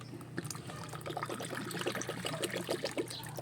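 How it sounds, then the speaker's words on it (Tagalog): Water trickles and splashes into a kitchen container, a soft, steady stream of small gurgles at close range lasting a few seconds, quiet and with no talking. "tingnan natin kung talaga namang ito ay malalagyan ng tubig"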